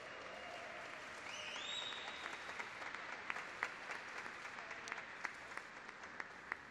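Audience applause fills a hall at a solemn legislative ceremony, a sustained wash of clapping with a few sharper individual claps standing out, and soft voices and a brief tone early on.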